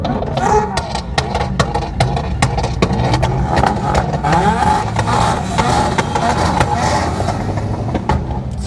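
A BMW M140i driven flat out at top speed, a loud continuous engine and road roar with wind rush and rhythmic thumps, heard from inside the car with no clear talk.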